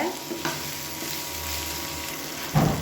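Radish and tomato sautéing in a pan for an idli and dosa side dish, a steady low sizzle with soft stirring scrapes and a louder clatter of the spoon near the end, no voices.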